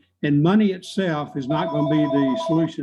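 A telephone rings steadily in the background of a recorded interview with transit industry leaders, partly buried under a man's close, continuous talking.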